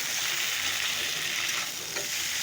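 Cumin, ginger and chili fry in a hot pan with a steady, loud, dense sizzle that holds level throughout, with no voices.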